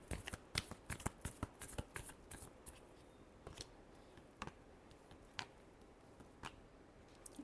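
A deck of tarot cards being shuffled by hand, quick crisp riffling bursts in rapid succession at first, then sparser soft flicks and taps, close and quiet with no talk.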